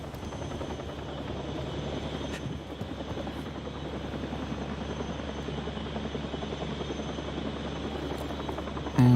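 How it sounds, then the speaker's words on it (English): Helicopter on an offshore rig in the video game Still Wakes The Deep, a steady rotor thrum and engine buzz holding loud and constant throughout. "How do we get up on the helicopter?"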